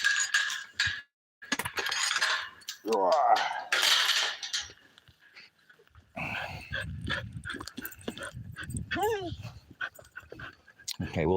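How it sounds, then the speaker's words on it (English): A dog barks in short bursts on a homestead while people talk over it, with clinking of metal and dishes nearby. "have a really loud bark."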